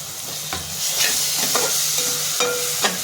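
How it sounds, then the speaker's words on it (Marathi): A paste of ginger, garlic, chili and coriander fries in a pan with a loud, steady sizzle. Repeated stirring scrapes of a spatula swell and fade every half second or so. "आता ह्याच्यामध्ये मी अद्रक लसूण मिरची आणि कोथिंबीर त्याची पेस्ट टाकून घेते"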